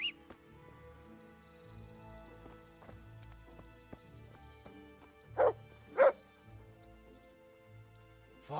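A dog in the medieval game Kingdom Come: Deliverance gives two sharp barks close together over quiet game music and faint hoof clops, with no talk during the barks.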